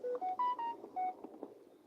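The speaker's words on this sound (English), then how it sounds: "I turned on this phone and it's still making noise" A phone gives off a quick run of short electronic beeping tones at differing pitches, fairly faint, followed by a few soft clicks.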